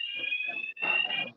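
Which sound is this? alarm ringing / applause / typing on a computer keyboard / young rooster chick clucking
alarm ringing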